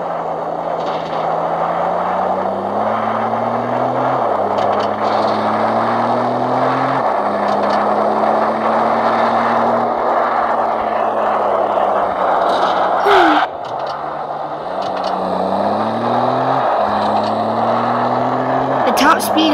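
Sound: Toyota pickup truck 4.0L V6 engine running

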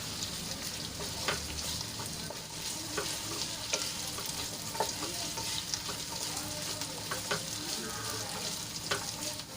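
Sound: potatoes sautéing and stirred in oil

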